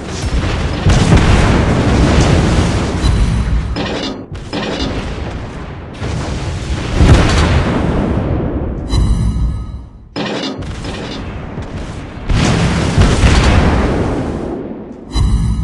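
Naval shells slam into an enemy ship in a video game. Several heavy booming explosions roar loud and broad, each one rolling out before the next blast follows.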